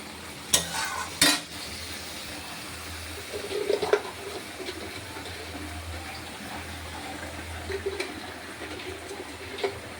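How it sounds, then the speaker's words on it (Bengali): Pointed gourd curry with salt, turmeric and a splash of water sautéed in a pan, with a quiet sizzle and intermittent spatula scraping, plus two sharp clinks near the start, no one speaking. "এবার আমি এটা কষাতে থাকবো"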